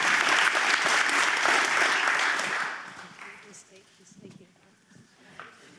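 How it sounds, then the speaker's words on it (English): Audience applause for a trophy winner at a high school senior awards night, loud dense clapping for nearly three seconds that then fades to scattered claps and quiet room noise. "let's applaud to the winner of this trophy, Oliver Amen."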